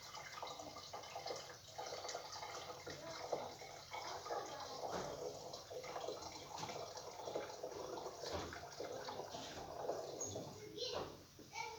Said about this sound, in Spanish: Yo tapo el orificio y le agrego agua a la botellita hasta que supere el nivel